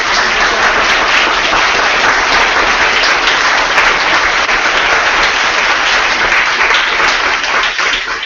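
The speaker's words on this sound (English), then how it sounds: "give yourself a big applause" Sustained, dense applause from an audience at a startup weekend event in Tokyo, loud and steady throughout with no voices on top.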